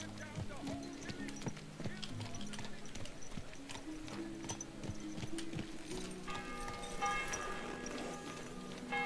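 Horse hooves clip-clopping in the medieval game Kingdom Come: Deliverance II, a steady trotting rhythm with a neigh amid game ambience while voices speak over it.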